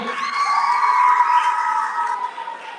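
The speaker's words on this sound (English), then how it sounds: "Please, everybody, a round of applause for you." A crowd at a school Science Day celebration cheers and shouts with high children's voices, a loud, steady swell of voices that peaks and slowly fades, with no distinct clapping standing out.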